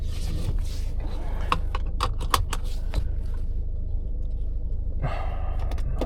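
BMW 5 Series car on a test drive, with a steady low engine and road rumble throughout, broken by scattered light clicks and rattles from inside the cabin.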